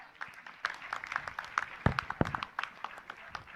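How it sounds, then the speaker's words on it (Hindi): Audience applause at a Jain religious gathering with Praman Sagar Ji Maharaj, heard as a scattered, moderately loud patter of clapping with a few sharper claps rising out of it. "एक बार जोरदार तालियां"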